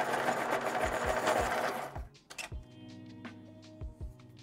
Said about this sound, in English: Sharpen this titanium buff Caran d'Ache.